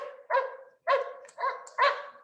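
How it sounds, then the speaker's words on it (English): Dogs bark in a played recording: four loud, evenly spaced barks, each a short harmonic burst, with no talking between them. "Dogs are so noisy"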